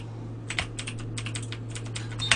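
Computer keyboard typing during a FIFA Online 3 football game session, a steady run of quick, close keystrokes over a constant low electrical hum, with no talk.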